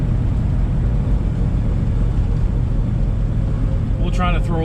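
Cabin of a 1979 Camaro Z28 on the move, a steady low engine and road rumble that holds evenly throughout, muffled and fairly quiet, with a brief higher chirp near the end.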